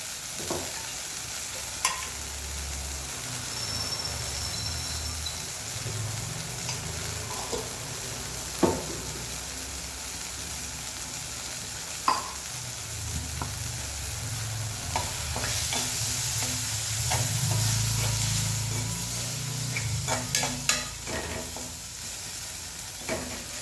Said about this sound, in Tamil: நல்லா வதங்கட்டும் தக்காளி வந்து நல்லா வதங்கிடுச்சு